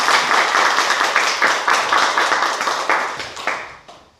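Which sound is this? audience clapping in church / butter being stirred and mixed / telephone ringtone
audience clapping in church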